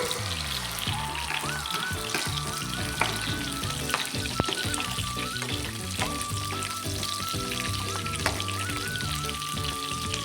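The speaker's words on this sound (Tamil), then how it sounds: "அடுத்தது பூண்டு ஆட் பண்ணிக்கோங்க" Garlic frying in oil with onions for a village-style brinjal dish, a close, steady sizzle dotted with small pops and crackles throughout.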